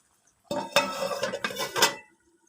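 A metal spoon scrapes and clanks against a pan while chicken karahi is stirred, with a short burst of close, busy scraping and a few louder knocks.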